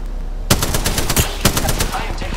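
Quick bursts of automatic gunfire in Apex Legends, loud, sharp shots in a fast uneven rhythm with game sounds around them.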